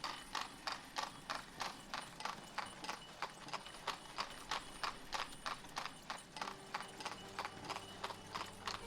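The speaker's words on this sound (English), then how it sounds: "you hear all those horses clippity-clopping everywhere" Horses clip-clop on cobblestone streets in the village-building game Ostriv, a steady, evenly spaced stream of hoof clops that keeps on throughout, with faint mechanical clatter in the background.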